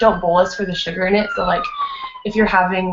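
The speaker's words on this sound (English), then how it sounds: "sorry for the sirens" A siren wails faintly in the background with a slowly falling tone, heard beneath a person's continuous talking.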